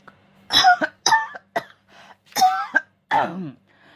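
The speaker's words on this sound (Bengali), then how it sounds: "কাশতে কাশতে দম বন্ধ হওয়ার উপক্রম হলো তার।" A man coughs in a string of harsh, hacking bursts with short gasps between them, close and fairly loud, as a sound effect in a Bengali ghost story set in a dimly lit railway waiting room.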